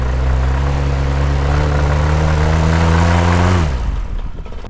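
Paramotor engine warming up on a beach near Myrtle Beach, a loud steady droning hum held close and constant for several seconds before it cuts off and trails away.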